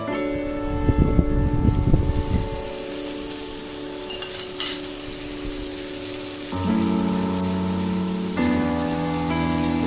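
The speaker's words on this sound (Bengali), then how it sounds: "এখন আমি এখানে যে ম্যারিনেট করা লইট্টা মাছটা সেটা দিয়ে দিচ্ছি।" Marinated loitta fish goes into a hot pan of fried onions with a burst of crackling sizzle, followed by continuous frying and stirring sounds in the pan.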